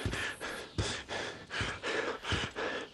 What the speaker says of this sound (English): I know my breathing is very heavy